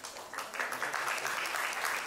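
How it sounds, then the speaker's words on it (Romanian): Steady applause from an audience at a regional folk instrumental soloist competition, sustained clapping throughout with no speech. "îl primim cu aplauze"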